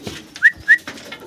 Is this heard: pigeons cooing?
yes